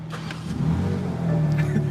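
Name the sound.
2021 BMW M3/M4 engine starting up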